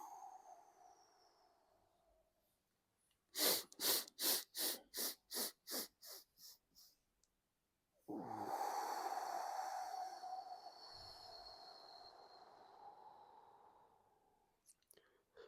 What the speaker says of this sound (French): Quand on inspire, on fait du bruit.